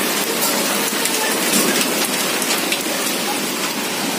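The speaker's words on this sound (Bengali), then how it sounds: "প্রচন্ড ঝড় বৃষ্টি হচ্ছে।" Heavy storm rain pours down onto a roof in a dense, loud, continuous wash of drumming drops, with no break throughout.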